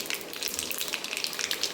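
Cumin seeds sizzling in hot oil in an iron kadai, a bright, busy crackle with rapid small pops, close and steady over a short stretch, with no speech.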